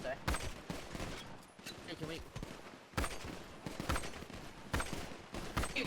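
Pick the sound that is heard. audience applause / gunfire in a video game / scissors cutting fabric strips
gunfire in a video game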